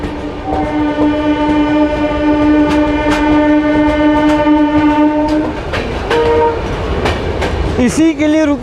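An Indian local train rumbles past close by with a steady mechanical roar and sustained horn-like tones, then its pitch shifts and a brief squeal rises near the end.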